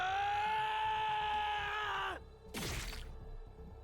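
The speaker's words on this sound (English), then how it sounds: "It all came rushing out as a bestial scream." A bestial scream of rage from a character in the video game The Hundred Line: Last Defense Academy, loud and drawn out for about two seconds before cutting off, followed by a sharp slashing crack.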